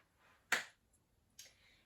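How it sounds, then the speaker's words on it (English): Two sharp single hand claps during a seated trunk rotation exercise in a Parkinson's movement class, spaced nearly a second apart, crisp and fairly quiet against a silent background. "Rotate and clap."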